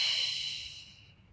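A single breathy exhale during a yoga core and stretching session, soft and airy, close to the microphone, trailing off over about a second.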